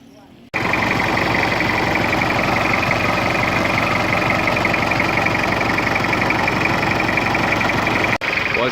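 A secondhand Japanese-import Toyota Hilux Surf with a 2.4 turbo diesel idles close by, a loud, steady, even diesel rumble that runs almost unbroken through the whole stretch.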